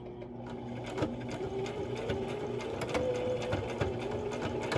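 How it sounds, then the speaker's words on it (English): A sewing machine runs a straight stitch across the folds of a reversible fabric face mask, a steady, fairly close mechanical whirring with light rhythmic ticking. "we're gonna end up sewing a straight stitch on top of all of our folds"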